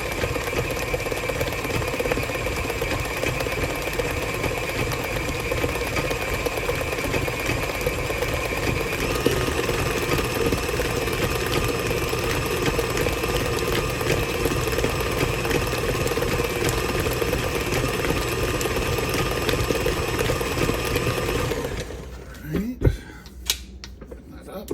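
Electric mixer beating homemade pound cake batter, a steady loud mechanical whir with a rattling edge running for about twenty seconds before cutting off abruptly, followed by a few knocks and clatters.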